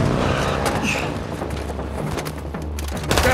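Gunfire in Call of Duty Modern Warfare 2, a loud, dense barrage of booming shots and bursts that runs without pause over rumbling vehicle noise and heavy low-end impacts.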